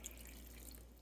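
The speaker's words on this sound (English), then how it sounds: "And put 3 cups of water." Water runs steadily into a cooking pot for tteokbokki, a soft continuous splashing stream with faint trickle detail, quiet and alone with no talking.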